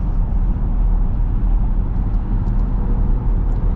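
A 2026 Dodge Durango GT cruising on the highway, a steady low engine and road hum with soft tire rumble, smooth and unbroken, heard from inside the cabin with no talking.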